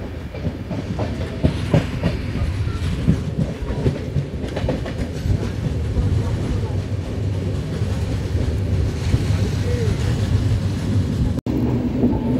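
An Intercity superfast express train runs along the line with a steady rumble and rhythmic clickety-clack of wheels, heard from on board, loud and continuous.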